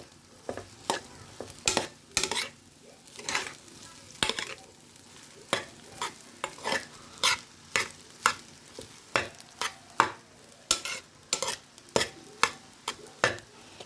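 Vegetable mixed fried rice is turned over in a pan from bottom to top, giving repeated sharp scraping stir strokes in an irregular rhythm over a low frying hiss, close and without talk.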